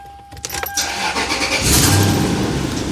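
A car engine cranks briefly, then catches and settles into a loud, steady idle close by, with no talking.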